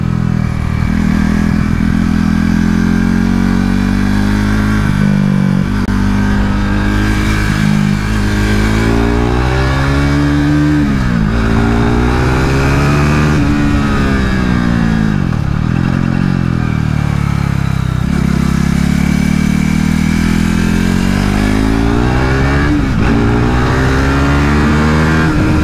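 A KTM RC 390 Cup motorcycle on a race track at Adams Motorsport Park, its single-cylinder engine loud and close, revving up through the gears with rising pitch, dropping on downshifts, then climbing again in long continuous pulls.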